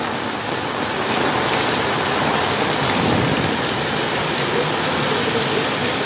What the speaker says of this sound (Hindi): वर्षा बहुत वर्ष चलती